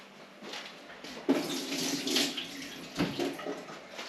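Running tap water splashes in a sink while hands are washed, a moderate continuous rush with a few louder surges.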